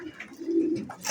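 Pet pigeons cooing while eating grain, a short low throaty coo, close and soft, amid faint rustling.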